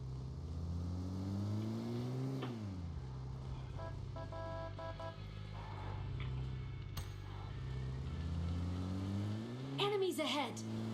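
Car engine in the mobile battle-royale game PUBG Mobile, droning steadily and rising in a rev at the start and again near the end, heard under a player talking.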